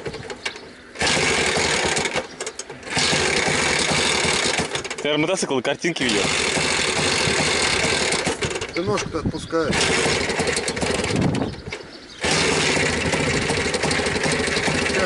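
An MTZ-80 tractor engine idles with a steady buzzing rattle, rising as it is revved, while people talk nearby.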